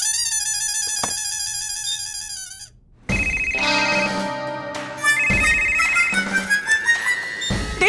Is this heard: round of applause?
no